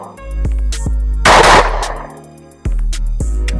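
Pistol shots from a Glock and a Taurus fired in a one-on-one shooting match, several sharp loud cracks with one heavier blast and ringing decay, over a constant low rumble.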